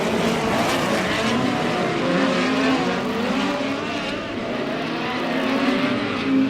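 Midget race cars roar around the dirt oval at Airport Raceway in a POWRi West Midget League race, a dense continuous engine whine from several cars with faint tire scrubbing and a commentator talking over it.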